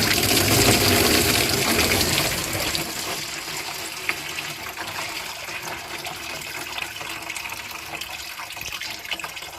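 Coolant gushes from the lower radiator hose of a Ford E250 van, starting as a heavy, loud rush and settling into a steady splashing flow.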